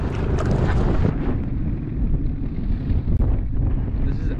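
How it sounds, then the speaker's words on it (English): Strong wind gusts across the microphone on a small stretch of river in Manitoba while fishing from a boat, a dense constant roar with buffeting and choppy water noise. "the wind is absolutely insane, and we're on the smallest part of the river"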